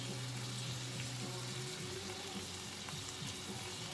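Butter sizzling on steaks in a frying pan on a stovetop: a constant, fairly quiet hiss and crackle of frying fat fills the whole stretch, with a low hum fading out early.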